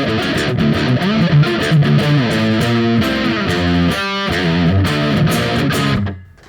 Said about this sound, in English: yeah, overdrive pedal. These are the first.